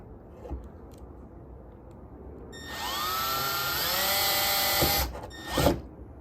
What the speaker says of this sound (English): I'm gonna go ahead and drill this one, see where that comes out